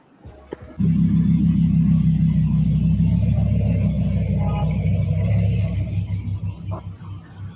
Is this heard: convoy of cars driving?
yes